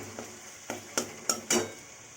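Turmeric and spices being sautéed in oil in a pan, with a steady low background hum and five distinct scraping stirs, growing louder toward the end, with no one talking.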